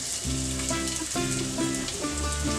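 Finely chopped onion frying in hot oil in a pan for a Malvani chicken curry, a steady close sizzle that runs throughout with a few brief tonal sounds laid over it, no talking.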